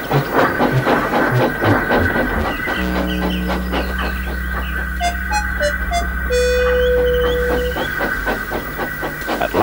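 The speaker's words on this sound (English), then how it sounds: "Edward had to push Gordon to the turntable to get him facing the right way." A steam locomotive is pushed onto a turntable, with rhythmic chuffing and clanking at the start, then long sustained whistle tones and metallic squeals, and a rhythmic rattle of wheels resuming near the end.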